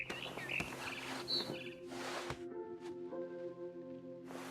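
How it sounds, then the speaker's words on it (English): Barn swallow chirps in What Remains of Edith Finch, a few quick high tweets near the start, followed by soft whooshing bursts and sustained tonal game ambience. "Then I heard chirping outside my window. It was a barn swallow going back to her nest."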